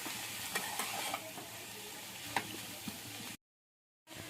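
A carrot, chopped soybean and vegetable patty filling is stirred together in a hot pan. It gives a quiet sizzle with light scraping taps, then a brief silent gap before the sizzle resumes.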